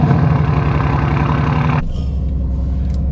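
Deep, steady engine drone from an Aston Martin, rough and loud with a strong low rumble; partway through the upper texture drops away suddenly, leaving a heavier, muffled low hum running on continuously.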